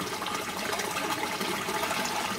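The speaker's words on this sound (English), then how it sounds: "So I'm going to rinse this first with tank water." Aquarium tank water pours and splashes while a test vial is rinsed for an aquaponics pH test, a steady rushing liquid sound with no voices.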